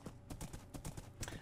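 Horse hooves clip-clopping in the video game Minecraft, a quick run of sharp, evenly spaced hoof knocks, close and fairly quiet, with no voices.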